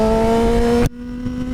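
A 600cc inline-four motorcycle engine screams at high revs with a steady, loud whine, then abruptly drops off as the throttle closes, leaving a lower rumble.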